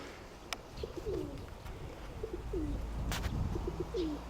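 Pigeons coo softly in repeated low rolling calls, a few birds at moderate distance, with faint clicks and outdoor background noise.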